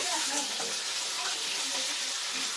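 Potatoes frying in hot oil give a steady, dense sizzle that fills the whole stretch at close range, with faint voices now and then underneath.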